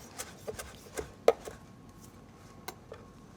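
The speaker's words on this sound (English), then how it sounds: "to help the blender here out, I'm just gonna kind of pre-chop some of this stuff." A knife chops fresh basil and arugula on a board for pesto, a few sharp, irregular taps spaced over a few seconds, close and fairly quiet in a kitchen.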